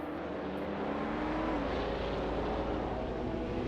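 Race cars at Classic Le Mans roar past in a steady, dense wash of engine noise with a broad mechanical drone and no breaks, heard from a distance with no voices over it.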